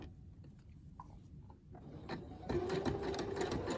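Sewing machine stitching a seam through pieced fabric, quiet ticking at first, then running faster and louder in a steady close whir.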